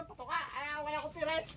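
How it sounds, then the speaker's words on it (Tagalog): Chickens cluck and squawk on a Philippine farm, several birds calling close by in quick overlapping bursts with harmonic, rising cries that fill the whole stretch. "Daming manok."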